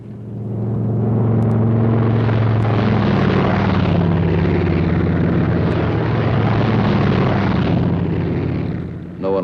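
Military aircraft, a WWII Thunderbolt squadron, taking off: loud, sustained engine roar with deep droning tones, building quickly and holding steady before easing at the end.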